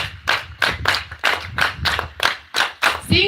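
A steady series of about ten sharp hand claps in an even rhythm, close and loud, with no talking.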